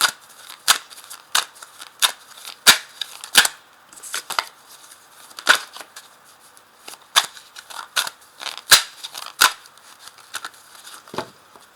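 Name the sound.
cutting a deck of tarot cards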